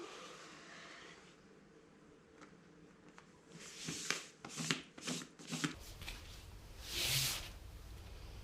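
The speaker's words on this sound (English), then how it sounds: "Here I cut away the overhang of the tape." A blade cuts away overhanging tape during a solar panel install: after a quiet rustle, a few close, crisp crinkling tears come in short bursts, followed by a brief hiss.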